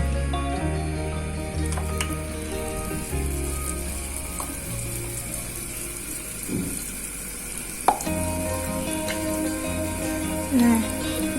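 Battered spinach chips fry in hot oil with a continuous crackling sizzle, close by, a few clinks and stirring noises on top and some background hum throughout.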